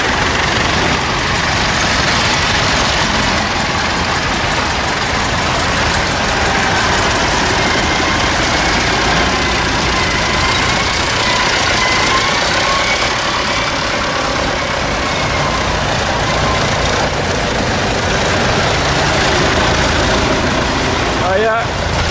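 A tractor engine runs at a vintage tractor run gathering, giving a steady, fairly loud rumble with broad mechanical noise that holds for over twenty seconds without a break.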